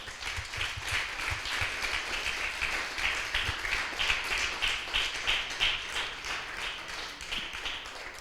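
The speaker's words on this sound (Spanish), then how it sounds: "Denle un fuerte aplauso al Rey, aleluya." A church congregation breaks into dense, continuous applause for the King, a thick wash of many hands clapping at once with occasional low thumps, holding at a steady level throughout with no talking.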